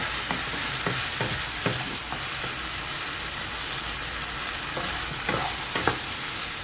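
Onion sautés in a pan until translucent, a dense steady sizzle broken by repeated scraping strokes of a spatula stirring through it.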